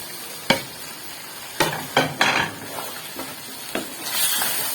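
Cauliflower goes into a hot cooking pan and is stirred, with a few sharp clatters and scrapes of a spoon against the pan over a light, faint sizzle that swells near the end.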